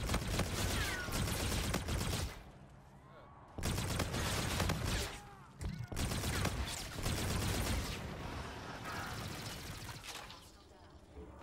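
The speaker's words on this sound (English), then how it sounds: "Think you better keep on shooting that little raggedy ass gun" Dense, continuous bursts of video game gunfire fill the scene almost without pause, broken by a couple of short gaps, with someone talking over the shooting.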